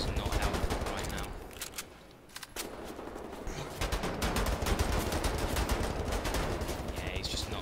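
Rapid automatic gunfire in Wolfenstein: The New Order, Berlin Catacombs level, runs throughout as dense, loud bursts with a brief lull, with a voice speaking over parts of it.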